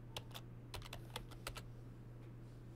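Computer keyboard typing at a desk, a short run of separate close keystrokes in an uneven rhythm over a steady low electrical hum, then a quiet pause, with no voices.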